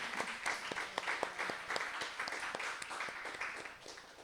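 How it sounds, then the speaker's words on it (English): Audience applause at an anti-Honeywell peace coalition panel, a steady wash of many hands clapping throughout, fairly dense and moderately loud, with no one talking over it. "Can we get another round of applause for Lena?"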